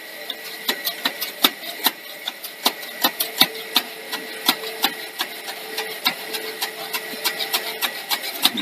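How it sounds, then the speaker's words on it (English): Worn heads and bearings spinning inside an old Bush BV6900 Betamax video recorder make a steady mechanical whir with fast, regular clicking ticks, close and moderately loud, with no voices. "The heads don't sound the best either, do they? Those bearings."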